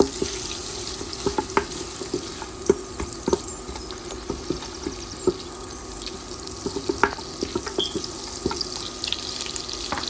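Faint sizzling of crushed ginger and garlic in melting butter in a pan, with scattered clicks and taps of stirring, steady and close, with no voices.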